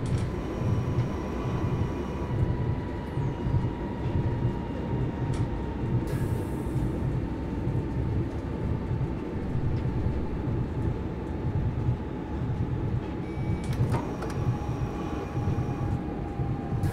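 An S-Bahn electric commuter train on the Südbahn near Vienna in Train Simulator 2018, a steady low rumble and rolling wheel noise with a faint tonal whine, continuous and alone throughout.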